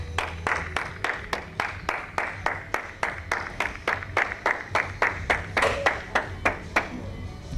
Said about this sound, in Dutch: Even klappen.